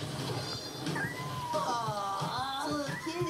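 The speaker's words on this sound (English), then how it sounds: "Aww, kitty." A cat meows in a short, rising and falling cry amid a busy cartoon commercial soundtrack with background noise and faint voices.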